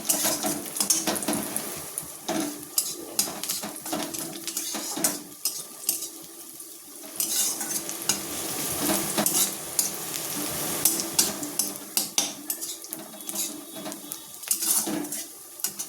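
Onions fry in a pan with a steady crackling sizzle, broken by repeated scrapes and clinks of a spoon stirring against metal, close and fairly loud throughout.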